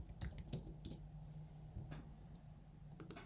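Quiet typing on a computer keyboard: a handful of light, sparse key clicks in small clusters with pauses between them, close and faint, with no talking.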